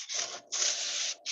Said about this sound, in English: once you've done the enough sanding of the tube